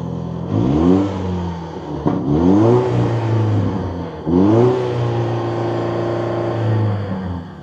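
A Nissan Frontier pickup's 3.8-liter naturally aspirated V6 revs three times in quick succession, each rise loud and close, then settles to a steady idle drone.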